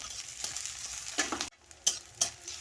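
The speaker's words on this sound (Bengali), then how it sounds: "ওই তেলে প্রথমে আমি কাঁচা পেঁয়াজ দেব কাঁচা লঙ্কা দেবো ভালো করে ভেজে নেব" Raw onion and green chilli fry in hot oil, a soft sizzle broken by a few sharp stirring scrapes and clicks near the pan.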